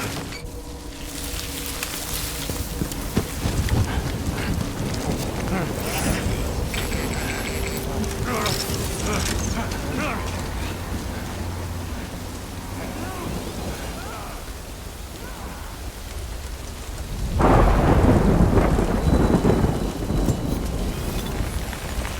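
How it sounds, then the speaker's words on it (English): Rain and rumbling thunder in the video game Death Stranding form a continuous, dense wash of noise, swelling into a louder burst near the end, with a voice talking over it. "Good thing it was raining."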